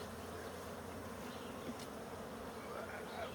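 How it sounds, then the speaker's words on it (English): Bees buzz densely around an opened secondary hive, a continuous close swarm drone with a few individual insects zipping past the microphone; no talking. "I don't want to kill the bees any more than I have to"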